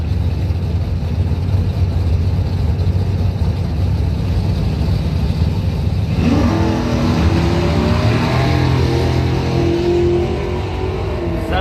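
Dragster race cars launch down a drag strip at a bracket points event, a loud steady engine roar suddenly swelling into a sweeping, rising howl as they accelerate away.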